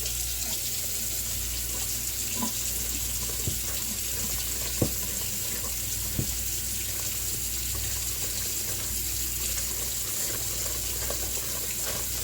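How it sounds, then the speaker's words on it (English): Kitchen tap running steadily into a sink to heat the water, a constant, close hiss of flowing water with a few faint clinks and no voices. "I'm going to turn my tap on behind me and get the water really hot"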